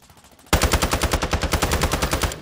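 Rapid automatic gunfire from a shooter video game bursts in after a half second of quiet, a loud, steady rattle of shots that runs to the end with no talk over it.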